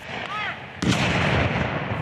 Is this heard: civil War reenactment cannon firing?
yes